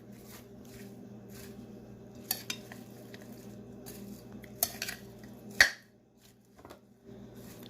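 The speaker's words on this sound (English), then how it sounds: "I'm going to mix all of this together." Mango salad ingredients with cucumber being mixed together in a bowl, making soft scattered clinks and light taps against the bowl at close range, quiet overall and with no talking.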